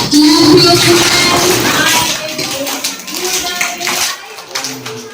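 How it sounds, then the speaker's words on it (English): A group claps along together at a birthday celebration, steady loud clapping that fills the first few seconds and thins out toward the end, with a voice speaking over it. "Clap your hands high above. Clap everyone."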